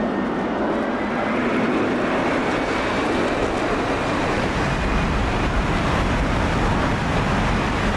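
Jet fighter engines roar in the DCS combat flight simulator, a steady, dense, loud turbine rumble with a faint high whine that holds unbroken for eight seconds.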